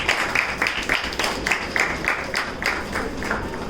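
Applause from an audience at a school talent showcase welcomes a judge, a steady wash of many hands clapping with faint rhythmic accents throughout, moderately loud and without speech.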